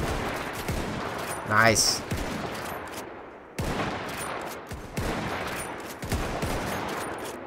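Troops shoot muskets in Mount & Blade Warband, firing a few ragged volleys of sharp gunshots spaced several seconds apart over battlefield noise, while someone speaks briefly.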